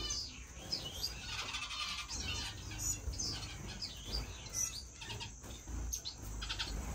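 Pet finches in a bird room chirping and tweeting continuously, a busy overlapping chorus of small high calls at moderate distance with a low background rumble.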